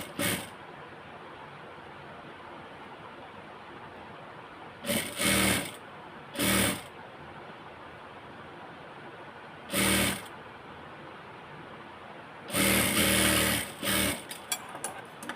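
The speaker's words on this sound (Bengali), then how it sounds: "পট্টিটা এটাকে এখন আমি এখানে সেলাই করে নিয়ে নিব" A sewing machine stitches a strip onto a blouse in short loud bursts of rapid whirring, several brief runs separated by quiet pauses, ending in a longer stretch of stitching.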